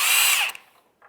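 A power tool whirs loudly while loosening a front subframe cradle bolt on a 2003-2011 Honda Element during an oil pan replacement, running for about half a second before spinning down and stopping, followed by a faint click.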